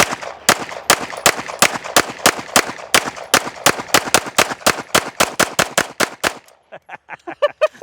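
Pistol shots at an outdoor shooting range fire in a long rapid string of about twenty loud, close cracks at a fast even pace, followed by quieter distant shots from elsewhere on the range.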